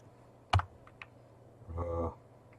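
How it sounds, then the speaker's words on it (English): Keys pressed on a computer keyboard, one sharp close click followed by a faint tap and a softer, longer muffled clatter, quiet and alone. "press Ctrl R on my keyboard"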